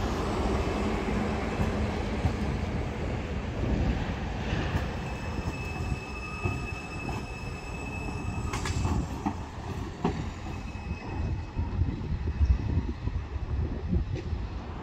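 A line 18 tram in Arad, Romania, running during track works gives a steady, close rolling rumble for about fifteen seconds. Rail clatter and sharp wheel squeals build toward the end, with no talking.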